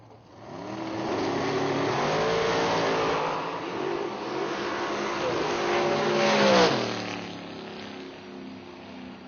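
A Class 1 transport dragster launches down a drag strip at a bracket race, its engine roaring steadily and rising through gears, peaking loud near the end before fading quickly into distance.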